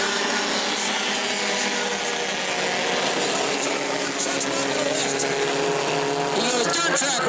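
Bomber-class race cars at the New Smyrna dirt track in Florida roar together into a turn, a dense, continuous engine snarl with rising rasp toward the end, while an announcer talks over it.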